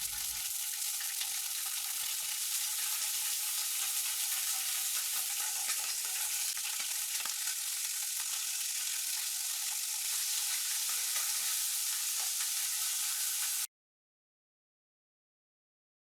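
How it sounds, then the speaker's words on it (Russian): Steady, dense crackling sizzle of sausages frying in oil in a pan, continuous and close, with no talking. "на сковороде обжарьте сосиски с добавлением небольшого количества растительного"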